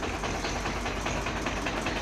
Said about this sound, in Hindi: मैं आपको आइशर ट्रैक्टर दिखा रहा हूँ